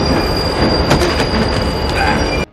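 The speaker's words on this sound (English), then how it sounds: "Mulder, don't get on the train." A train rumbles loudly nearby with squealing wheels and a steady metallic whine, then the sound cuts off sharply at the end.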